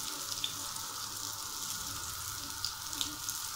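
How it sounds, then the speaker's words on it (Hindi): Beef shami kebabs frying in a pan, a soft, steady sizzle with faint scattered pops, close and fairly quiet throughout. "बहुत ही मज़ेदार खुशबू आ रही है कबाब फ्राई होने की"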